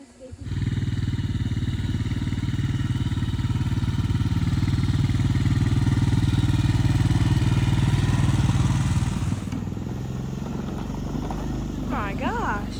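Camera drone buzzing overhead near a chicken pasture, a loud steady motor whine that holds for about nine seconds, then drops away as animal calls and voices come through.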